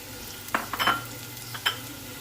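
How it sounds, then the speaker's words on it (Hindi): Capsicum stir-frying in a pan for spring rolls: a low sizzle with a few sharp spatula scrapes and clatters spaced over two seconds. "शिमला मिर्च डालेंगे पहले"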